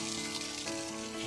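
Water being poured onto plants, a soft continuous splashing and trickling that runs unbroken throughout, faint, with no talking over it.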